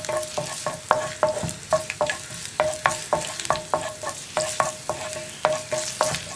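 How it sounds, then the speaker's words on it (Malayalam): Ginger sautéing in hot oil for tomato chutney, a close bright sizzle punctuated by rapid, regular scraping taps of a spoon against the pan, with no talking. "ഇഞ്ചി ഒന്ന് ചൂടായി തുടങ്ങട്ടെ"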